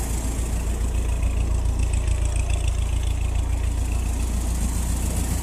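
A Ford Model T engine runs steadily throughout, a continuous low rumble with a faint rattling texture while the car is driven slowly, loud and close with no talk.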